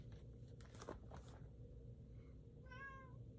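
A single short cat meow sounds near the end, preceded by some soft rustling against a low background hum.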